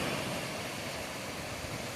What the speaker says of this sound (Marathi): हे आमचे बंधू ट्रॅक्टर घेऊन सामान वाहत आहेत